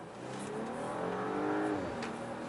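A 2018 Audi A8 55 TFSI accelerating at full throttle, its engine note rising steadily in pitch as it revs, heard from inside or close by with a constant moderate loudness and no talk.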